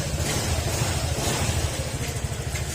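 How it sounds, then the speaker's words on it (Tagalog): A repaired Honda Click scooter engine runs steadily at idle close by, with a low, even hum and no knocking or rattling. No voices are heard. "Yan, tahimik na uli yung kanyang makina mga sir."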